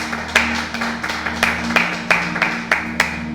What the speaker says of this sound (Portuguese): E uma salva de palmas para Jesus